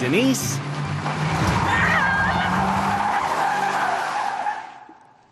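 Car tires skidding and squealing on pavement as a nervous driver practices steering on a driving course, a loud continuous screech with engine noise, voices briefly audible underneath.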